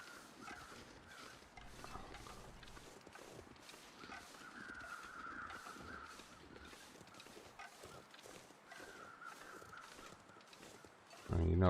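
Crows caw faintly in the distance in the survival game The Long Dark, scattered calls over rhythmic crunching footsteps in snow and wind, closing with a loud thump.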